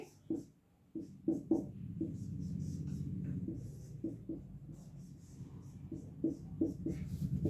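Chalk or marker writing on a board during a chemistry lesson, short scratchy strokes and taps in irregular bursts, close and moderately loud, with a faint hum beneath and brief murmurs of a voice.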